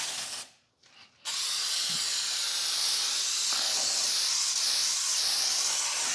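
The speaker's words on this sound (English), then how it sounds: "I'm going to spray a 9 by 13 inch dish. And I'm using the spray, the baking spray that already has the flour in it." Flour-containing baking spray released from an aerosol can into a 9 by 13 inch baking dish: a brief hiss, a short pause, then a long, steady, close pressurized spray.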